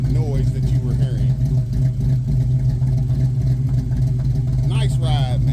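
A Chevrolet Malibu G-body with a 383 stroker V8 rumbles steadily at idle, a deep, loud, constant engine tone close by, with people talking over it.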